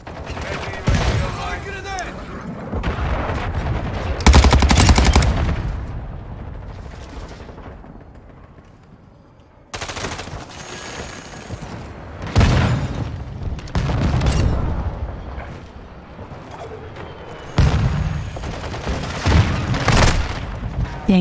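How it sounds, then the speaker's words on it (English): A cruise missile strike and gunfire in Warzone 2.0, with a string of loud booming explosions and crackling bursts that fade between blasts, under occasional game voice callouts. "Hostile cruise missile launch."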